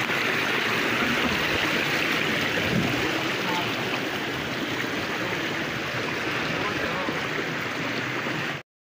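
A flowing stream at the arroyo de Los Hornitos near a ranch in El Grullo, Jalisco rushes in a dense, continuous broadband wash, loud and close, before cutting off abruptly at the end.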